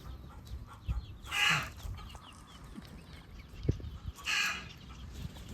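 Chickens clucking in a farmyard, several short bursts of hen calls spread across the stretch at moderate distance, with some low background noise between them.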